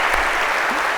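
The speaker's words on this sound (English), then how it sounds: "a big round of applause, if we could," An audience in a lecture hall breaks into applause for a student, a short, dense wash of clapping filling the room.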